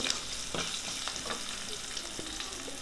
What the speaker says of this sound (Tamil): கூடவே 5-6 சின்ன வெங்காயம் போட்டு அதையும் நல்லா வதக்கி விட்டுருங்க